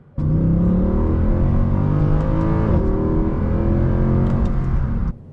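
Mercedes C63 AMG floored at full throttle, a loud, steady engine roar that holds strong for about five seconds with rising revs, then cuts off abruptly.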